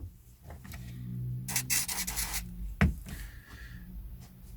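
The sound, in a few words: polishing a disc while cleaning a collection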